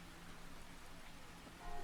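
Steady, faint rain hiss plays as a sound effect, an even wash of drops with a slight swell at the end.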